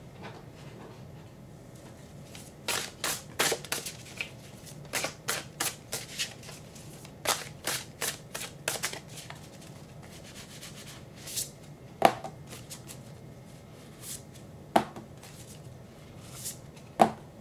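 Tarot cards laid out one by one around a central card on a table, a series of soft close slaps and brushing slides in clustered bursts with pauses between, then a few sparser single taps.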